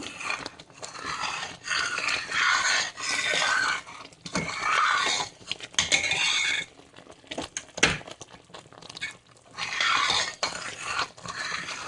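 Hot blackberry jam is stirred in a pot after boiling, with a spoon scraping and clinking against the pot sides. The stirring comes in repeated close strokes, with a few sharper knocks between pauses and no voices.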